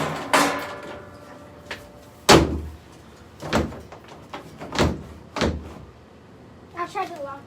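A house door being tested after a new doorknob is fitted, with a series of sharp knocks and thuds of the door swinging and shutting, spaced about a second apart, close by, and voices speaking between them.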